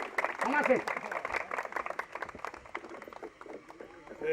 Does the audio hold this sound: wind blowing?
no